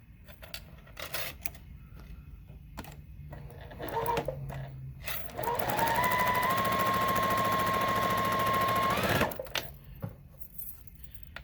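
A sewing machine stitches quilt block pieces with a quarter-inch seam, a steady close mechanical whir in bursts that builds to a long continuous run before stopping.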